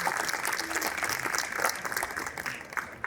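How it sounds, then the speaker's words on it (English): An audience applauds a panel on women in leadership, a steady wash of clapping hands at moderate distance lasting the full few seconds, with no talking over it. "please, a round of applause for our wonderful panel"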